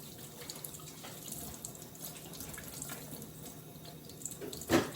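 Tap water runs from a kitchen faucet into a pot as a steady, soft, splashy rush, fairly quiet and unbroken, ending with a brief clunk.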